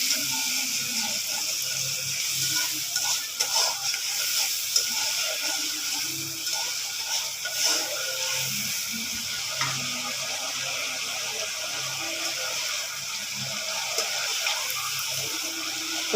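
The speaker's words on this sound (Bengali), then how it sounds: "বুঝছি ভালো করে কষাইতে আছে এটা মশলা" Spice masala sautés in a pan, a soft, fairly quiet sizzle with intermittent light stirring scrapes running steadily throughout.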